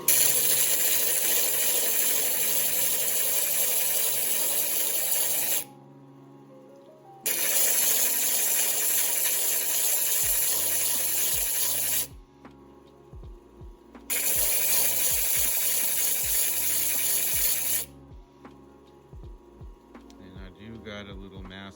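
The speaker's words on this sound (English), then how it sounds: "got the 80 grit diamond disc, my good old Amazon disc. Crank the starter on, and let's just flatten this out." A tiger's eye stone is flattened on an 80 grit diamond disc, with bursts of loud broadband grinding noise alternating with quieter gaps filled by a motor hum.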